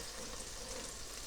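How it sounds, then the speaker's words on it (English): Steady broadband hiss of chicken sizzling in a Cosori air fryer, constant and fairly quiet throughout, with no talking. "Yeah, that's sizzling."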